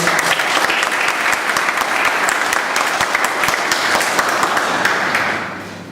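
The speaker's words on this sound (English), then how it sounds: "Please give him a round of applause" A room of Toastmasters meeting attendees gives a warm, sustained round of applause, steady close clapping that holds evenly and fades out near the end.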